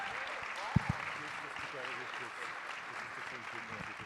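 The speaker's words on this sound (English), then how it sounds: "Please join me in giving my fellow panelists a warm applause for this very good panelists." An audience at an accessibility conference panel applauds the panelists, a steady moderate patter of clapping with a couple of sharp knocks early on and voices mixed in.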